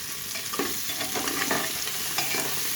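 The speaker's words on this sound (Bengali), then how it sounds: "পেঁয়াজগুলো সুন্দর করে ভেজে নিচ্ছি, আলুগুলো, টমেটো সহ।" Onions, potatoes and tomatoes frying and being stirred in a pan for mutton curry, a steady close sizzle with scraping stirs throughout, no talking.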